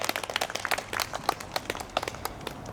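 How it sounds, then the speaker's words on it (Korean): A congregation at a church prayer meeting claps in short, uneven bursts, fairly close and loud, over a brief span. "우리 하나님께 다시 한번 영광의 박수 올려드립시다"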